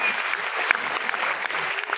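Clapping from an audience at a Raipur poetry gathering, a steady burst of many hands filling the space for a couple of seconds.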